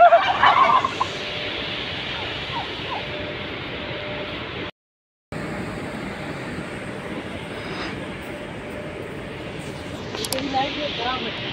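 Turkeys at a flour mill in Kotri gobble over a steady broadband background roar, with a brief drop-out midway and a few faint calls poking through. The birds sound distant and partly masked.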